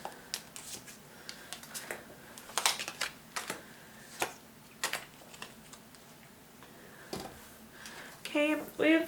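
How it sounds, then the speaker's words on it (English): Tarot cards drawn and shuffled from a deck: soft papery flicks and taps in irregular bursts, close and quiet, with a brief voice near the end. "Let's pull some cards to clarify."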